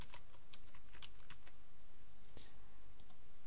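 Rapid keystrokes on a computer keyboard while entering a plugin search, close and fairly quiet irregular clicking bursts with brief pauses.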